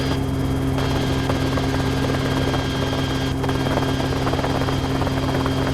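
A helicopter in flight gives off a loud, steady rotor and engine drone that holds unbroken from start to finish, with no voices over it.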